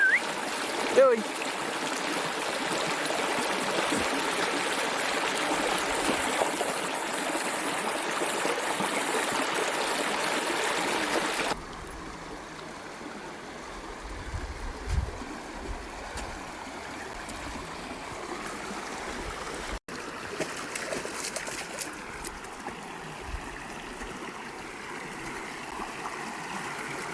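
A creek runs nearby, water flowing and trickling steadily, loud at first and then quieter and more distant, with occasional splashes and a few voices in the background.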